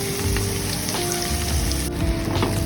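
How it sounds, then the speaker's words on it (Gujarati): Stuffed okra sizzles steadily in oil in a pan over a low flame, a continuous soft crackling hiss with no talking. "આને આપણે ધીમા ગેસે જ ચડવા દેવાની છે."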